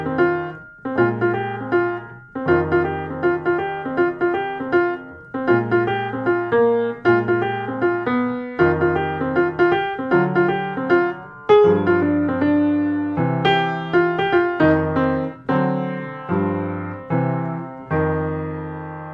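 Solo jazz piano plays a simple F blues progression in shell voicings, clear rhythmic chord stabs with comping bass notes at a moderate swing tempo, close and uncluttered, no voices.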